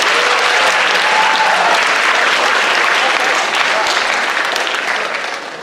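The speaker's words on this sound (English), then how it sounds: "can we give them a whole round of applause, please?" A crowd applauds steadily and loudly, a dense wash of clapping that carries on throughout and eases off slightly toward the end.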